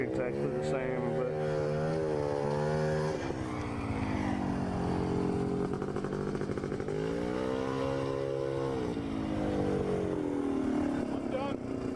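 A quad ATV engine runs steadily while being ridden, its droning note rising and falling with the throttle, up close and continuous, with a voice talking over it.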